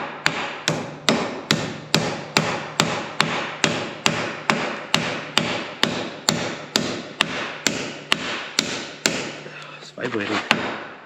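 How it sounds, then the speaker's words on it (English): Small hammer whacking a part into place during a repair, about twenty sharp metallic strikes in a fast steady rhythm, close and loud, with a brief scraping rattle near the end. "We're gonna see how he likes the little hammer."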